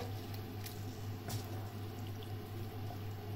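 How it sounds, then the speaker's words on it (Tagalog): Water poured steadily into a pot of mung bean soup, a continuous close liquid pour over a low background hum, heard alone. "Magdagdag tayo ng kunting tubig."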